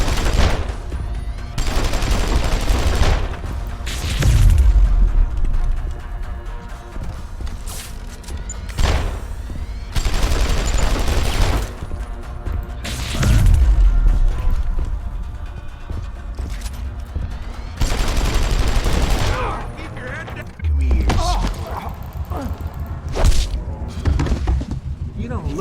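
Gunfire in the video game Deus Ex: Human Revolution, repeated bursts of shots and crashes mixed with game sounds, with voices speaking over and between the shooting.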